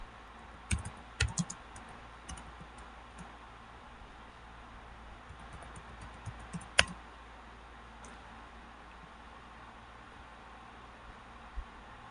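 Commands being typed on a computer keyboard into an Ubuntu server, with quiet, sparse key clicks in short bursts and isolated taps over a faint steady hiss of background noise.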